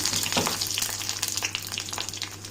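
Toor dal, urad dal and dried red chillies frying in hot oil with mustard seeds, a dense, close sizzle with crackling pops throughout.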